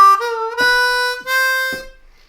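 A C harmonica plays four separate notes, including a pitch-bent draw note, each clear and close with short pauses between them, ending on a final sustained note that fades out.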